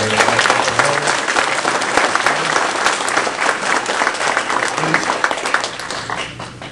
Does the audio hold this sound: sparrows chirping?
no